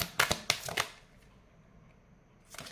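Tarot cards shuffled and drawn in a few quick papery flicks and snaps, then a quiet pause before one more card slaps down.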